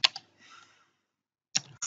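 Keystrokes on a computer keyboard while entering a lookup query in Kali Linux: a couple of sharp clicks, a soft pause, then a quick pair of taps, close and fairly quiet with no voices.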